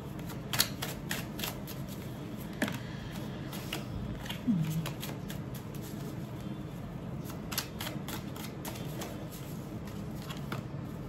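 Tarot cards shuffled by hand in a steady riffling rhythm, with a few sharper flicks and taps standing out, close and fairly quiet, with no talking.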